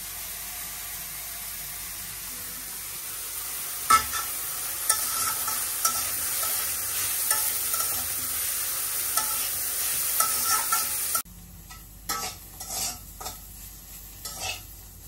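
Chopped onion frying in a pan with salt, turmeric and green chilies, a continuous close sizzle broken by regular stirring scrapes; the frying drops away near the end, leaving a few sharper clatters.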